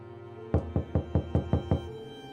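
Seven sharp, evenly spaced knocks strike a door in quick succession, loud and close, over a low steady background hum.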